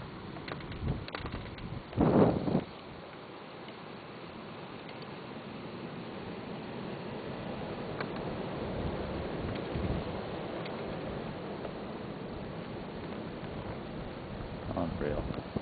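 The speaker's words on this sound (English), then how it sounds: "You can hear the wind. It's definitely picking up in the middle of a blizzard warning." Wind during a blizzard in Bowie, Maryland, in 2010: a steady, rising wash of gusty noise that fills the whole stretch, with a brief louder buffet early on.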